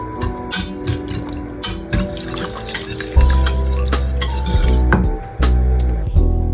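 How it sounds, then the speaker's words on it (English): A whisk clinks and scrapes against a pan while mozzarella cheese sauce is stirred, irregular metallic taps over a low steady hum that swells partway through, close and fairly loud, no talk. "And now we'll whisk that up a bit"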